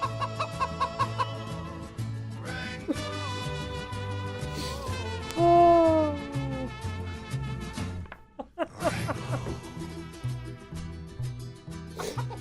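A recording of a chicken plays, clucking in a steady repeating rhythm over a low rhythmic backing with a brief pause near the end, fairly loud and without talk.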